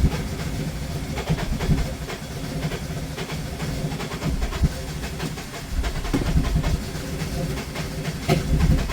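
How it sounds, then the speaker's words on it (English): A 2007 Acura TSX is cranked over but won't start. A continuous hissing churn is broken by irregular loud pops and backfires, close and harsh throughout. "See how it's backfiring?"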